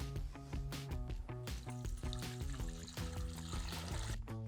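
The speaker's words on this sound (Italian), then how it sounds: "e aggiungo l'acqua." Water pours steadily into a pot holding fish scraps, carrot, onion, parsley and white peppercorns for a fish stock, a continuous close gurgling fill with no talking.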